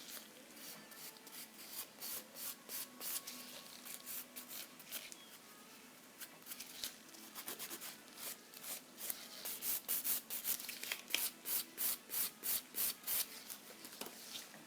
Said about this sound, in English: we etch the surface of the nail with the 180 grit